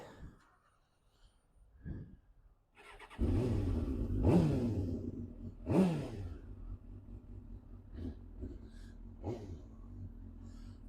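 Suzuki GSX-R motorcycle engine cranking and firing up, then settling into a loud close idle with several sharp throttle blips that rise and fall.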